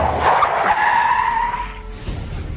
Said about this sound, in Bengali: পুলিশের গাড়ি এসে আমাদের ট্যাক্সির পিছনে সশব্দে ব্রেক কষল